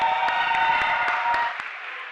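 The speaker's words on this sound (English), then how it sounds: "Round of applause for her." Audience applause at a speed dating event, a short burst of dense clapping from a crowd, steady and fairly close before tapering off at the end.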